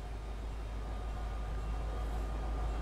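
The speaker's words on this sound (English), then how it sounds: "Oh, it's a train. It's a train." A train rumbles past in a video game, a steady broadband roar with low-end weight that holds evenly throughout, loud and continuous with no voices over it.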